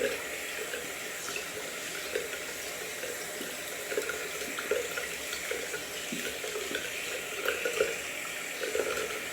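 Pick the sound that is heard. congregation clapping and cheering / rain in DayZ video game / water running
water running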